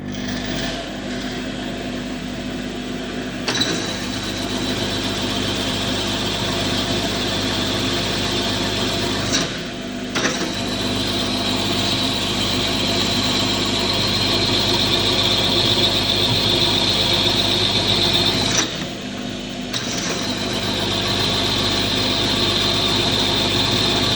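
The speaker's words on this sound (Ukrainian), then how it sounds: "Пробуємо, як воно буде сверлити." An old drill press bores at reduced spindle speed, roughly a quarter of full, giving a steady, loud, strained machine drone with a faint squeal, broken by a few brief pauses.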